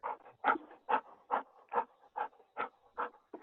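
A dog pants steadily and close by, about nine quick, even breaths in three and a half seconds, with no talk over it.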